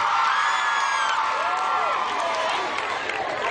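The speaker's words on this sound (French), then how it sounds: "Et ça se voit, ça se sent par les cris, les acclamations." An audience at a debate contest cheering and whooping: a loud, dense crowd roar with high shouts and whoops throughout, steady and close.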